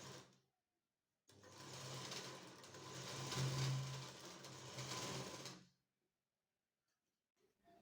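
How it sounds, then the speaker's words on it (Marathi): A sewing machine stitches a blouse belt in one continuous run of about four seconds, a close steady whirring rattle between quiet pauses. "तर तिथं मी दाब टीप टाकून घेते"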